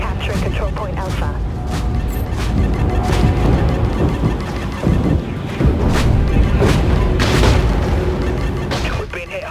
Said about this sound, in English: Firing up. Broadside. Open fire. Reloading broadside cannons.